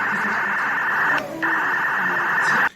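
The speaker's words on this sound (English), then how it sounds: "Some kind of digital noise on 217-7325." Steady digital noise hisses from a TYT TH350 handheld radio receiver on 222 MHz, with a brief dropout partway through before the tone resumes and cuts off abruptly.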